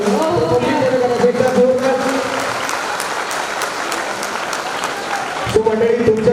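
An audience claps together in sustained, dense applause, loud and even, fading a little before a final burst of clapping near the end.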